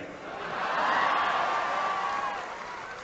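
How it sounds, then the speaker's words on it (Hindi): Audience at a comedy and poetry show in Hyderabad erupts in a steady wash of applause and crowd noise that swells then gradually fades over a few seconds, heard alone without talk. "अब आपकी तालियां उठेंगी"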